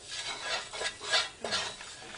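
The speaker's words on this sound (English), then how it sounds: "So all we're doing is just stirring all this up from the curry base I made and the onions that my mom put together." Curry base and onions stirred in a pan over high heat: a few close scraping strokes of a utensil against the pan, with no talking.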